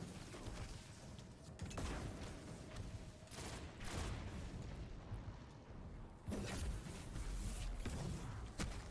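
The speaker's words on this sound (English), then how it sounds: "Destiny snipers are so bizarre." Sniper rifle shots in the video game Destiny, several loud sharp reports spaced a few seconds apart over a dense, busy game soundscape.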